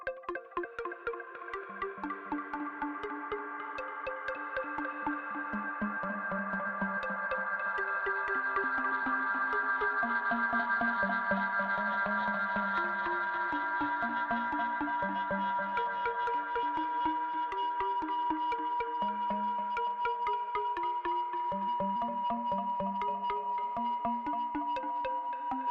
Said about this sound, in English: You hear that feedbacky sound coming and going.